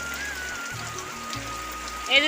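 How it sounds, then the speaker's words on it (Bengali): Heavy monsoon rain pours down in a village, a dense steady hiss of drops on surfaces close by, with brief voices and a short clatter near the end. "দেখুন বৃষ্টি আসছে আবার খুব।"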